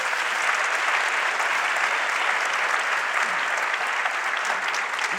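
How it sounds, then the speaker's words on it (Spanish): Audience applause at a live Spanish talk show taping, a dense, even wash of clapping from a large crowd sustained throughout at moderate loudness. "pidiendo que ustedes mismos se den un aplauso."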